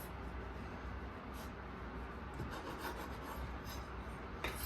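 A knife saws through the soft, moist sponge of a Swiss roll cake, trimming off the ends with a quiet, steady rasping scrape that runs continuously up close, with no voices.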